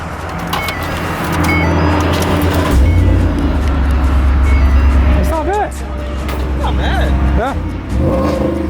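A 2019 Ford F-150 pickup with its exhaust removed fires up and revs loudly several times, a raspy close engine roar rising and falling, with someone talking over parts of it.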